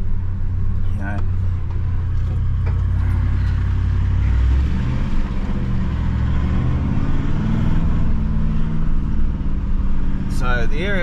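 A 79 Series Land Cruiser with four-wheel drive rolls over wet, muddy ground, its engine giving a steady, loud low rumble close by throughout, with faint clunks and splashes.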